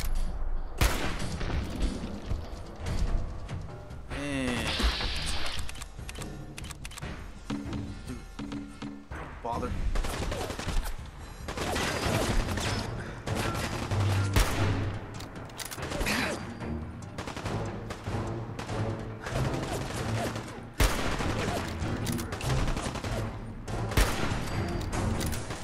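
Gunshots in Fallout 4 during a fight with raiders, scattered bursts and thuds mixed with game sound and ongoing talk.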